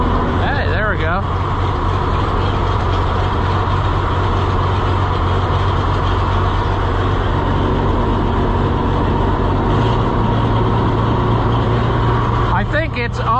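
A John Deere B tractor engine idles loud and close after a cold start, a constant rough mechanical drone, running low on fuel, with people talking over it.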